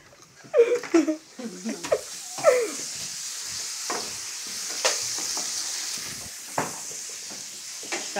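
Bacon frying in a pan gives a soft, steady sizzle, with a few bursts of voices and kitchen knocks near the start, then mostly hiss with occasional clicks.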